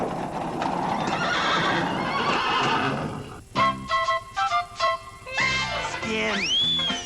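A horse neighs loudly and hooves clip-clop in a steady rhythm in a Sesame Street scene, ending with a rising whinny. Busy background sound comes first.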